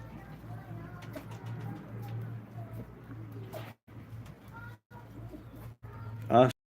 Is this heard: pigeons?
yes